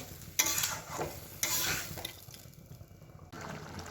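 Water poured into a hot pan of shrimp curry sets off short, loud bursts of sizzling and bubbling, three distinct surges separated by quieter simmering.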